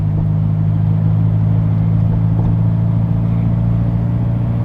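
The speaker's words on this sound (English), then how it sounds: "keep it in a low RPM range because that's when I heard the rattle the most" A Mini car cruises through a neighborhood at low engine speed, a steady, close, low rumbling hum with faint ticking through the cabin and no clear rattle standing out.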